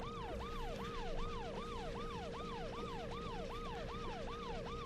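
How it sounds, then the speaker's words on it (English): A looping wailing siren from the Paper Mario: The Thousand-Year Door video game rises and falls in steady, even sweeps, loud and continuous from start to finish with no voices. "Hope you guys like sirens."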